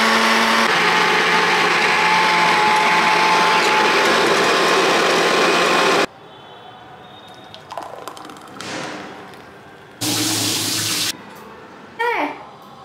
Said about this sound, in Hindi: ये बड़ा सा जार है स्मूदी या बड़ा सा चीज़ ब्लेंड करने के लिए।